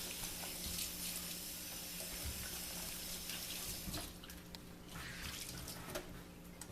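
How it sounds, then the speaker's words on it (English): Kitchen tap water running steadily while sticky bread-dough hands are rinsed under it, a constant close splashing rush with brief irregular splatters and hand movements in the stream, no voices. "Now rinse my hands off because they're all sticky gooey from the bread dough."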